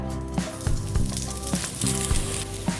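Grated coconut sizzles in ghee, a close, loud crackle with repeated short knocks of a spatula against the pan and a faint steady hum underneath.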